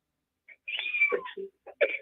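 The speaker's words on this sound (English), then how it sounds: "Thought I heard a cat in the background" A cat meows a few times in the background of a morning radio show call-in segment, giving short, distinct cries of moderate loudness with brief pauses between them.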